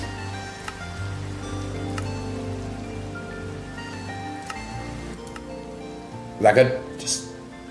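Steady rain falls in the video game Minecraft, a soft continuous hiss beneath game music and someone talking, with a couple of brief louder sounds near the end.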